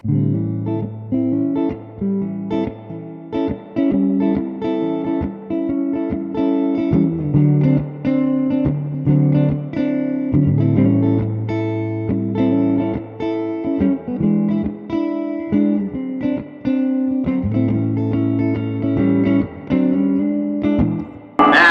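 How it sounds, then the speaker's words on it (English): An electric guitar plays sustained chords and single notes through the reverb channel of a 1965 Fender Super Reverb amp, with a lush, spacious reverb tail under each phrase; steady and fairly loud, with no talking. "As you can see, the reverb effect is very prominent"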